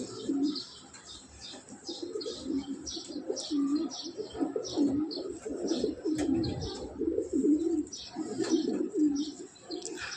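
Racing pigeons coo in repeated low, burbling phrases nearby, with quick high chirps and a brief flutter of wings mixed in; no voices.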